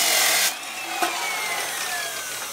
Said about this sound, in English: I got my cutoff saw here.